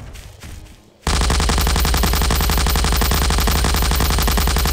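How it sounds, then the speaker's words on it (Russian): A six-barreled minigun spins up and fires in Garry's Mod, a dense, loud, unbroken stream of rapid shots that bursts in abruptly after a brief quieter moment and continues steadily to the end. "Я возьму миниган, шестистволку."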